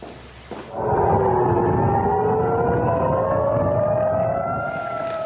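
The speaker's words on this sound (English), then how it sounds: "Sirens ringing out in Jerusalem as Iran launched strikes on Israel" Air raid sirens wailing loudly in Jerusalem during Iranian missile strikes on Israel, several overlapping rising and falling tones sustained across the whole stretch after a brief quieter start.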